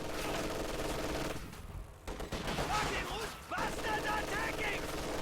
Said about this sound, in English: DP and PTRS firing at the Grenadiers